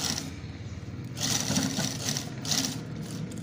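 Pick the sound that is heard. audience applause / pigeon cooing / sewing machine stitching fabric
sewing machine stitching fabric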